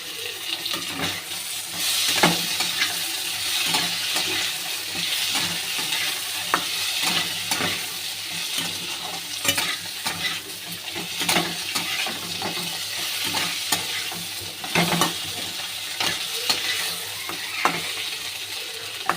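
Tomato and green chilli sizzle in a pan for a pomfret curry, a continuous hiss broken by repeated scraping clicks of a spoon stirring, fairly close and steady throughout.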